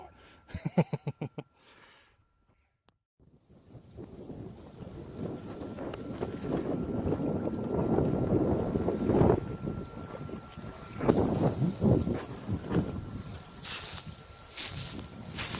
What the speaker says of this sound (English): Gonna try to get away from the wind.